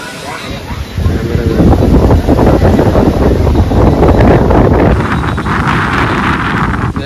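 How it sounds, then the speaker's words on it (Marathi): Strong gusts buffet the microphone at Karanja jetty, a loud, rough roar that swells and persists, with a voice speaking briefly and a boat and water faintly underneath. "बेकार वारा रे इथे."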